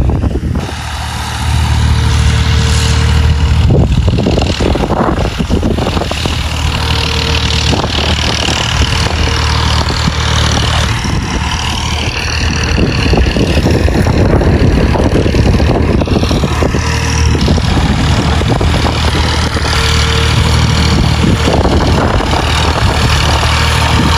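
A tractor engine runs in a farm field, holding a steady, loud idle throughout with a constant mechanical drone and no voices.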